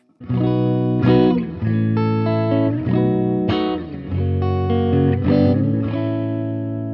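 Clean Orangewood Del Sol electric guitar with light amp gain and amp reverb, playing sustained chords and notes in the middle pickup position, bright and ringing with a light reverb tail, no voices.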